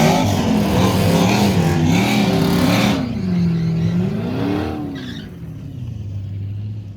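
A drag race car on four slick tires launches down the strip at Sick Week 2023, loud engine revs climbing and wavering in pitch before the sound falls away into the distance.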